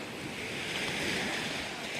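Big ocean waves at Marahi beach on Sangihe island, a steady broad roar of surf and wind, continuous and full without breaks.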